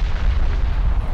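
Warship gunfire in the Ultimate Admiral naval game, with the Tenryu shooting during a close battle, a short burst of loud, low booming blasts with a continuous rumble and no voices.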